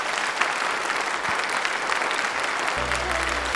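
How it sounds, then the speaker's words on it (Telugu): A crowd claps loudly and continuously, dense applause filling the space, with a low hum rising at the very end. "అందరూ చప్పట్లతోటి ఇంకా చాలా గట్టిగా"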